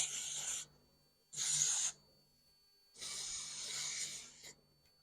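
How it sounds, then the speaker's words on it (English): Got2b glue spray hisses onto the edges of a frontal wig in three separate bursts, the first two short and the last longer, close to the microphone with quiet pauses between. "I'm going to be using got to be glue to just spray my edges like so"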